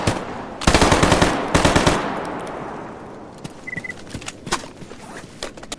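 Rapid bursts of automatic gunfire crack out loud and close in the STALKER GAMMA video game, two heavy volleys early on, then scattered single shots and lighter pops trailing off against a quieter background.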